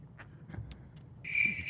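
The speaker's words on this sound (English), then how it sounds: "Don't start those crickets." Cricket chirping sound effect played in a talk-show studio: a steady, fairly loud high trill begins partway through, after a few faint scattered chirps over a quiet background.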